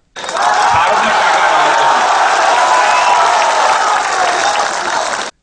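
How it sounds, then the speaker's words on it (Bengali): A crowd of BJP workers and supporters bursts into loud, sustained applause with some cheering, a dense wash of clapping that holds steady for several seconds before cutting off abruptly. "এরপরই হাততালিতে ফেটে পড়েন বিজেপির কর্মী সমর্থকেরা।"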